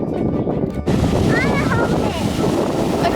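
Wind and waves roar steadily on a cold day at the beach, loud and close, with blustery wind buffeting the microphone and a brief voice faintly heard.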